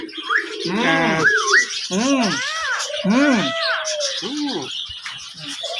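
Budgerigars and pigeons on a rooftop garden squawk and chatter nearby in a run of rising and falling calls, loud and close, with a few lower cooing-like notes mixed in.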